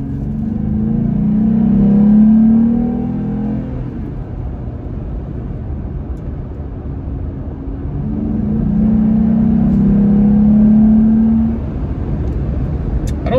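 Engine of a Jeep Gladiator fitted with an aftermarket exhaust, revving up twice as the truck accelerates along a straightaway, each deep rising drone swelling loud for a few seconds and then easing back, no voices over it.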